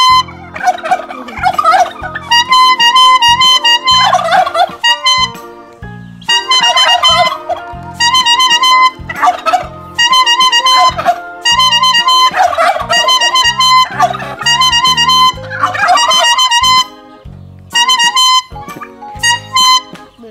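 A toy air horn is squeezed over and over, giving loud, honking blasts in an uneven rhythm with brief pauses between bursts.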